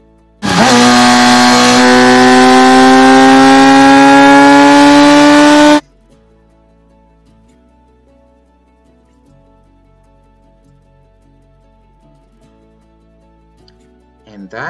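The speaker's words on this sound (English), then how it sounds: "And this one too, the engine" A loud engine revs steadily for several seconds, its pitch climbing, then cuts off abruptly into near silence with faint tones.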